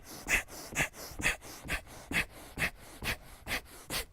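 Rhythmic, forceful breathy exhales from a person during a jogging-in-place workout, about two per second, close and fairly quiet, with no speech.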